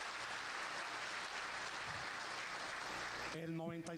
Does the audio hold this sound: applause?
yes